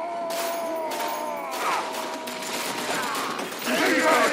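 Rapid bursts of gunfire in the Warhammer 40,000 Kill Team video game, on the Chem-Generator Assault mission, crackle in repeated volleys with voices talking underneath.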